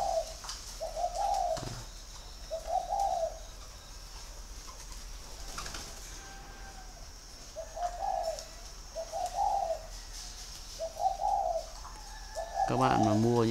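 A caged oriental magpie-robin gives short, soft, repeated calls in small groups with pauses between them. The calls are moderately faint against quiet background noise.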